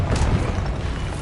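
A Confringo fire spell explosion in Hogwarts Legacy lands as a short, loud, deep boom with a rumbling burst that holds briefly.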